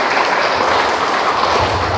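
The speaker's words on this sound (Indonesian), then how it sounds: "kita patut beri tepukan tangan untuk mereka" A church congregation claps together at an online Sunday service, a steady dense patter of hands sustained throughout at close range with no talk over it.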